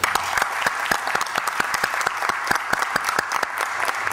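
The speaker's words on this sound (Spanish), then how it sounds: "Un aplauso, por favor." Council members and attendees clap after a unanimous vote in a municipal council session, a dense, even round of applause that holds steady from start to finish with no talking over it.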